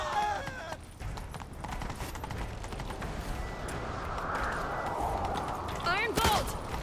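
Horse hooves gallop in The Witcher 3 video game, a rapid continuous clatter under game dialogue and a streamer talking, with a brief whinny near the end.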